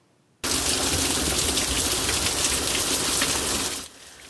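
Heavy rain pours down in a dense, steady hiss that starts abruptly and holds loud and even for about three seconds before cutting off, with no talking.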